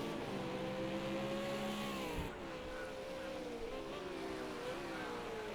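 V8 Supercars race cars run through track turns, a loud continuous engine drone with shifting pitch as the cars brake and accelerate through the corners, steady and fairly close throughout.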